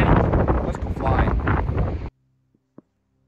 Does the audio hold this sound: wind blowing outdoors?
yes